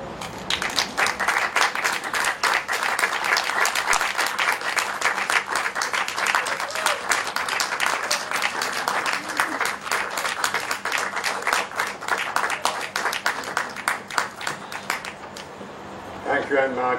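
Sustained audience applause fills the room after a spoken-word poetry reading, dense steady clapping from a sizable crowd that continues evenly for most of the stretch before briefly thinning and picking back up at the end.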